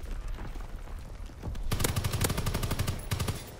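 Rapid automatic gunfire crackles in a Call of Duty match. Quieter shots and background noise come first, then a loud, sustained burst of fire runs through to the end.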